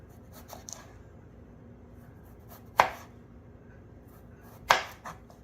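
Two sharp knife chops strike a cutting board a couple of seconds apart as unpeeled potatoes are cut into wedges, with faint taps and handling sounds in a quiet room.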